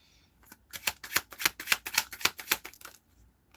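A deck of playing cards is shuffled close up, a rapid run of crisp, evenly spaced flicking riffles that builds, holds and then trails off.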